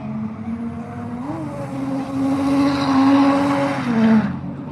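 A dented Nissan S15 drifts on the Minami Course at an autumn drift event, its engine revving and rising in pitch as tires squeal, building to a loud, close peak with no talk over it.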